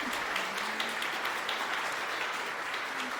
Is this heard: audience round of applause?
yes